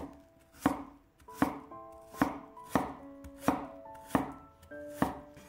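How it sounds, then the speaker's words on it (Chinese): A knife slices peeled Chinese yam into thin pieces on a board: about seven crisp, evenly spaced chops with soft music in the background. "山药去皮之后，先斜着给它切成小段， 再切成薄片，切得均匀一些。"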